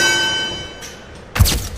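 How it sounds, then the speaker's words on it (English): A ring bell strikes once in a WWE 2K25 wrestling match, sounding as a sharp, loud clang near the end after a quieter stretch of sustained tonal background. "That's it. Ring the bell."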